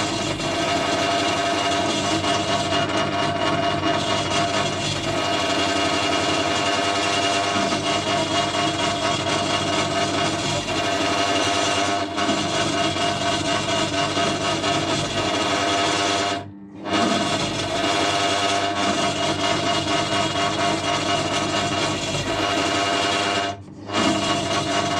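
Drill running steadily as it bores out a broken bolt on a Mountfield lawn mower, a loud continuous whirring hum with two brief pauses where the bit stops, no talking.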